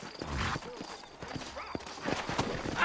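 Horse hooves clip-clop through a town in the Western video game Red Dead Redemption, a steady rhythm of close hoofbeats mixed with game ambience and brief voice-like sounds.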